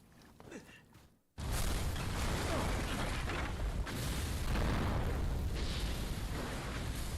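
A big explosion in Resident Evil 6 bursts in suddenly after a quieter stretch, then roars on as a loud, sustained rumble with debris noise and no voices over it.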